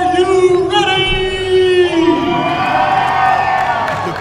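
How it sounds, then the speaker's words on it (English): A crowd at an armwrestling super match at the Buffalo Fitness Expo cheers and whoops loudly and continuously, with shouted voices rising through the roar. "The crowd is absolutely electric right now, guys."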